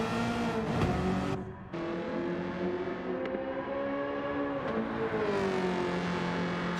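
A Gran Turismo 7 GR.3 race car with an aftermarket exhaust revs and drones at Watkins Glen, its engine tone rising and falling through gear changes with a brief dip in the middle, loud and continuous.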